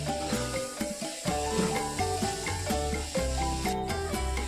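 A coconut and jaggery mixture being stirred in a pan over a low flame, a steady soft scraping and sizzling texture that continues throughout, with music playing over it.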